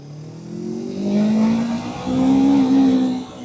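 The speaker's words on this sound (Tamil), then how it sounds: "செம்ம லீனியர் எக்ஸாஸ்ட் நோட் உங்களுக்கு கேட்குன்னு நினைக்கிறேன்" A Yamaha R3 motorcycle exhaust note heard while riding, a smooth rising engine drone that climbs in pitch, dips briefly, then climbs again as the rider accelerates, loud and close with no speech.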